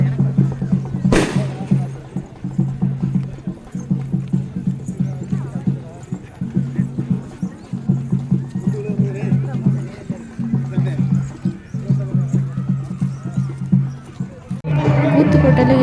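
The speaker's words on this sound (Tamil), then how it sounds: "கூத்து போட்டதுக்கு எல்லா குதிரையும் வந்துருச்சு." Many horses arriving for a village horse festival clip-clop in a steady, continuous patter of hooves, with a crowd murmuring and people talking over it.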